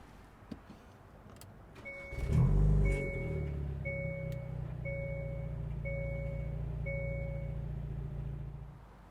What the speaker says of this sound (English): start your car and let it run out of gas